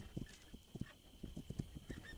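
A horse pulling a cart clip-clops in the video game This Land Is My Land, a faint, rhythmic series of hoofbeats with light rattling in the background.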